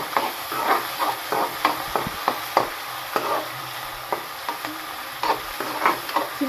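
Ingredients roasting in a pan for chitranna, a simple South Indian lemon-style rice dish: a steady soft sizzle with repeated stirring scrapes and light clicks throughout, close and moderately quiet, with no voices.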